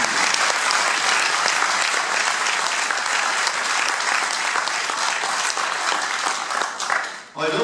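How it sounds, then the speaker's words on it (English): Audience at a UKIP public meeting in Southport applauding loudly, a dense continuous roar of clapping that holds steady for several seconds before tapering off at the end. "Please give them another round of applause."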